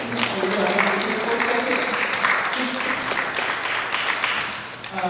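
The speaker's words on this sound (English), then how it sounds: "So please join me in thanking Alfie Smith" An audience at a local community gathering applauds steadily, a dense wash of clapping that holds for several seconds before easing off near the end.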